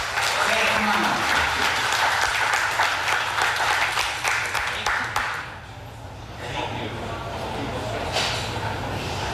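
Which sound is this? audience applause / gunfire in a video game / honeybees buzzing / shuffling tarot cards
audience applause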